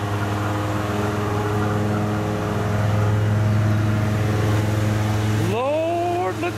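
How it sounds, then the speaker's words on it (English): A truck engine idles after a CRC upper cylinder carbon-cleaning treatment, a steady close low hum with tonal drone, then a rising whine near the end; a voice talks over it. "let the engine run, let it run at idle until the smoke clears up pretty much"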